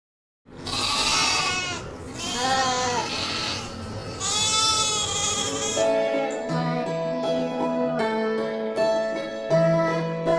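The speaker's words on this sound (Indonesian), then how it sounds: "Domba." Sheep bleat several times in a row, wavering calls close and loud, followed by a stretch of tonal musical backing with no voices.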